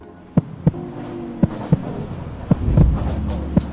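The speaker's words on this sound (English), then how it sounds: "we'll add our heartbeat right there" A heartbeat sound effect thumps in a steady, slow rhythm of low, punchy beats, loud and close, with a rising rumble and faint higher rustles late in the passage.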